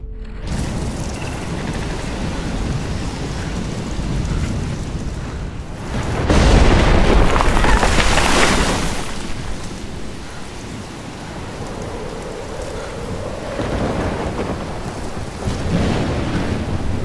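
Thunderstorm with rain in Life Is Strange: steady heavy rainfall throughout, broken by a loud rolling thunderclap that swells and rumbles for several seconds before fading back into the downpour.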